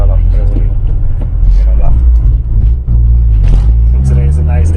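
Inside a car with a Honda H22A engine and T2W4 transmission, a deep, steady engine rumble and road drone runs close by underneath a person talking.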